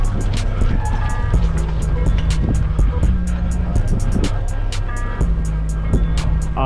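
A motorcycle engine revs and drops repeatedly in rhythmic bursts while riding wheelies along a trail, loud and close with wind rushing over the microphone.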